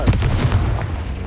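A Confringo fire spell blast in the Hogwarts Legacy video game, a short, loud booming burst with a heavy low-end thump that rumbles and fades over about a second.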